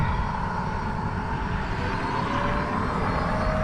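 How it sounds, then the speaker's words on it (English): A Hyundai Kona Electric charges at a charging station, giving off a constant loud whirring drone with a faint rising tone, steady throughout with no talking. "A lot of whirring going on."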